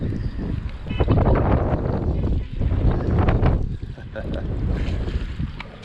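Strong wind gusts across a lake bank during early spring bass fishing, a loud, continuous low roar that surges and dips briefly without pause, with no voices.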